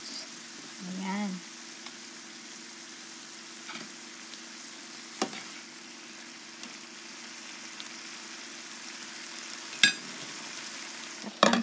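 Cabbage and carrots fry quietly in a pan under a soft sizzle, with occasional stirring clinks and a few brief spoken words.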